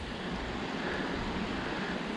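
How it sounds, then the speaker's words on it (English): A multi-tier waterfall on a moorland hillside gives a steady, broad rushing roar, continuous and fairly distant, with wind noise mixed in and no voices. "there's a nice multi-tier waterfall up there."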